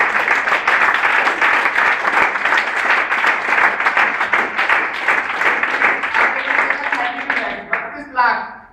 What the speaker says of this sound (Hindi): अब जबरदस्त तालियां.